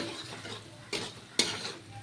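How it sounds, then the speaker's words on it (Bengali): Masala for a mushroom masala fries and is stirred in a pan, a soft steady sizzle broken by two sharp scraping strokes of the spoon, close and clear with no talk. "চলুন ঢাকা ছাড়াই আমি মশলাটাকে আরেকটু ভেজে নিই"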